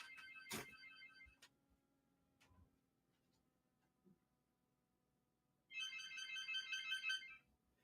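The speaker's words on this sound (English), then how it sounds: "telephone is ringing" A telephone rings in a short electronic trill, once near the start and again later, with quiet ticking and faint background noises between.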